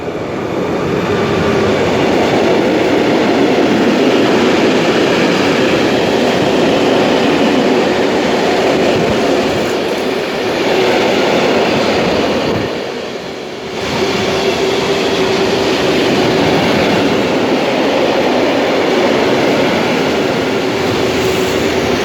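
A train pulls into Gdynia Chylonia station in Poland, a loud, steady rumble of wheels and carriages rolling close by for the whole stretch, dipping briefly midway before the roar resumes.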